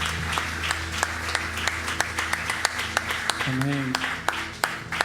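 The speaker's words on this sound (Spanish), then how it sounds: "¿Qué tal si le das un fuerte aplauso al Señor?" Church congregation applauding for several seconds, a dense patter of claps with some louder individual hits, a voice speaking and a sung tone rising over it.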